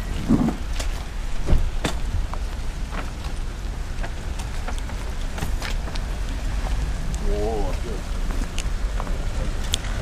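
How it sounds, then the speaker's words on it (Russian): Heavy rain pouring steadily outdoors, a dense continuous wash of noise with a few sharper drops and a brief voice partway through. "по-прежнему льет сильный дождь"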